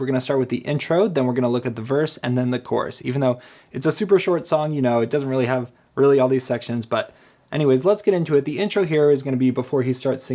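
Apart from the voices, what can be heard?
No everyday noises stand out.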